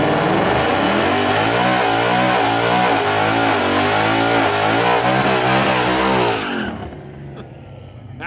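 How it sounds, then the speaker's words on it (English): A drag car roars through a burnout, its engine loud and close with a wavering, pulsing revs under the tire noise for several seconds before cutting off abruptly into near quiet. "That's how you do a burnout"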